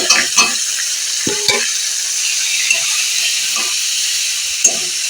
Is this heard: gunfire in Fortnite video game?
no